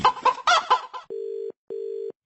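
A short rooster crow sound effect on a Radio Mirchi Murga prank call, a loud, clipped cluck-and-crow sequence, followed by two flat electronic busy-signal tones.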